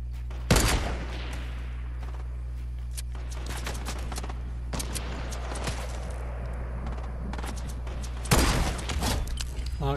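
Rapid gunfire from a video game shootout crackles through the scene, with dense bursts near the start and again toward the end and scattered shots between, all over a steady low background hum.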